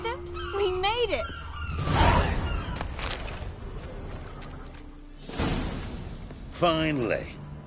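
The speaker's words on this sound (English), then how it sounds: "Seagulls! Hear them?" Seagulls call in the Witcher 3 game world, sharp wavering cries heard in brief bursts near the start and end, set against whooshing ambience and characters talking.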